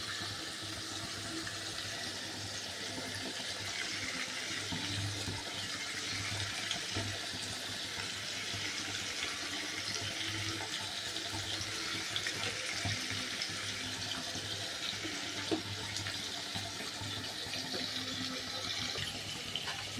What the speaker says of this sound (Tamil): தண்ணி பாருங்கள் நல்லா கொதிக்குது